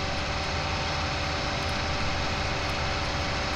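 A heavy tractor engine from the Farming Simulator 19 video game drones steadily and loudly throughout, a dense continuous hum with no breaks and no talking.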